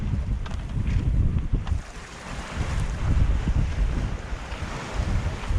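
Open ocean waves and gusting wind buffet a sailboat crossing the Bay of Biscay, a steady loud wash of surf and wind noise rumbling on the microphone throughout with no voices.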